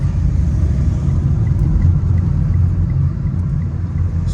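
A car engine hums steadily with a low rumble during a driving lesson on a road, holding a constant drone throughout with no clear rise in revs.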